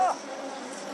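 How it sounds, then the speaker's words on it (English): Swarm of bees in the Amazon buzzing around people, a dense continuous drone heard close, steady and fairly loud for a brief moment. "I've got bees all over me. They're stinging. I'm covered by them."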